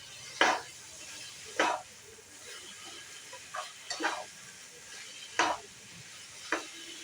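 Lemon rice with turmeric being stirred in a pan: a soft sizzle runs beneath several distinct scraping strokes of a spoon against the pan, spaced irregularly and fairly close.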